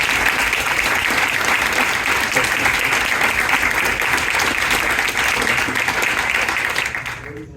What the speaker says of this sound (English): let's just give it one more just warm round of applause